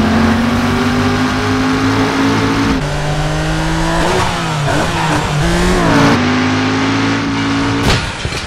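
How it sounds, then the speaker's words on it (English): Engines roar during a car chase in the video game Driver: San Francisco, loud and continuous, with revving that rises and falls through gear changes and brief tire noise near the end. "We're going to get straight into a car chase between John Tanner and Jericho, two key characters that we've brought back from earlier in Driver's history."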